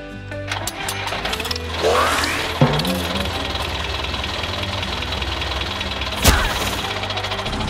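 A tractor engine runs loudly with a rough, knocking chug, punctuated by a few sharp clunks and rising whines, with no talking.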